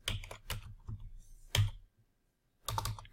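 Numbers are typed on a computer keyboard in short bursts of quick, close key clicks, separated by a brief pause before a final flurry.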